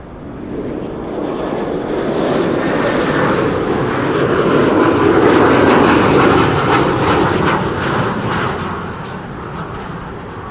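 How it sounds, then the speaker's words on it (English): A KLM Embraer 190 inbound from Zurich roars in to land at Amsterdam Schiphol on a windy day, its broad jet engine noise rising to a loud peak near the middle and easing off as it passes, with no voices. "next airplane coming in is KLM flight 1918, arriving from Zurich. That is an Embraer 190."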